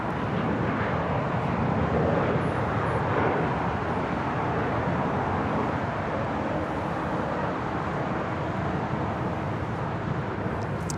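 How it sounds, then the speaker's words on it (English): Aeromexico Boeing 787 Dreamliner taxiing across a runway at LAX, a constant broad engine rumble heard from afar, steady and unbroken for the whole stretch, with no voices. "The Aeromexico Dreamliner now going to cross over 25 right"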